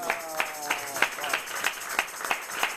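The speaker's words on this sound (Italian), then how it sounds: "Questa oggi avremo anche gli applausi" Live applause at a press-review broadcast, a small group clapping in a steady, evenly spaced rhythm of distinct claps, heard close and moderately loud while a voice talks at the start.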